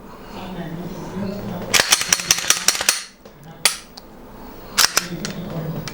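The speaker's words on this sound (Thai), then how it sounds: "เดี๋ยวขออนุญาตเคลียร์ปืนนะครับ" Glock 19 pistol being cleared, with a quick burst of sharp metallic clacks from racking the slide, then a single clack and a later pair of clicks, close and loud, with someone speaking softly between them.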